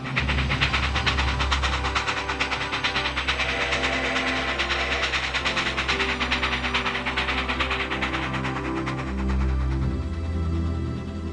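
A narrow gauge mountain train between Durango and Silverton rumbles along steadily with a continuous engine drone and faint rhythmic rail clatter, holding constant for the whole stretch.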